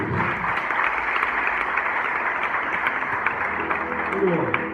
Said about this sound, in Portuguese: Recebe o servo com as palmas do Senhor Jesus